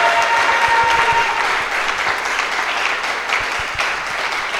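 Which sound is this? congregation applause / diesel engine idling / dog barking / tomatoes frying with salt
congregation applause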